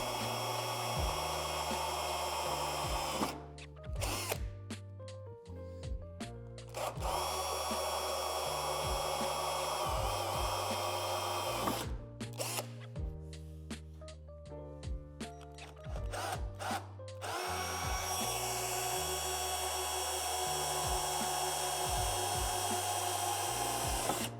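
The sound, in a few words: power drill drilling metal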